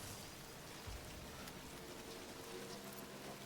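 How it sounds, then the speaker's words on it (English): Steady rain hisses throughout a rainy scene in the video game Death Stranding, a soft, even wash of drops with no voices and one brief low thump near the start. "The rain started"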